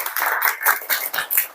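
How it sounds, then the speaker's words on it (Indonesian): A classroom of students gives a short burst of applause in a junior high school in Karawang, West Java, with rapid overlapping claps for about a second and a half. "Ya, baik, beri tepuk tangan untuk Saskia Nursada."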